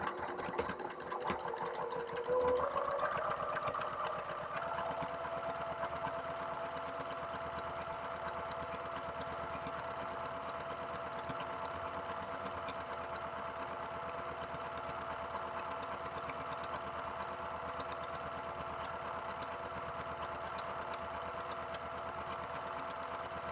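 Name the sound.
sewing machine stitching a bag panel seam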